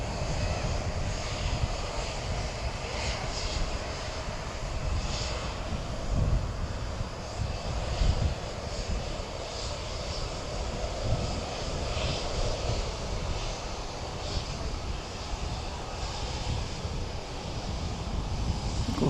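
A Boeing 757 jet airliner at DFW Airport at night, its engines giving a steady, loud, broadband roar that holds for the whole stretch with no voices.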